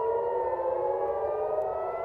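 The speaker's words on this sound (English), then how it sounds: "In Israel, meanwhile, sirens are being heard across Tel Aviv." Civil defense air raid sirens sound across Tel Aviv during an Iranian missile attack, a steady, continuous wail that holds at an even level throughout, with no voices.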